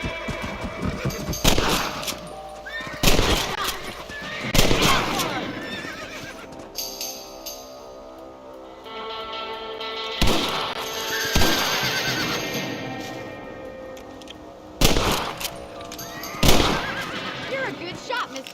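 Rifle shots fired at rabbits in the video game Red Dead Redemption: several loud, sharp cracks spaced irregularly, set among game ambience with horse snorts and whinnies.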